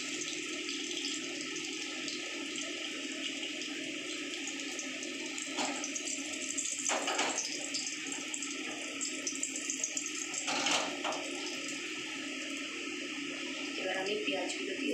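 Three cloves, three cardamom pods and a cinnamon stick hit hot oil for chicken curry, a steady frying hiss with a few sharper crackles, and a voice talks faintly over the sizzle.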